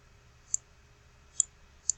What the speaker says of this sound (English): you're going to click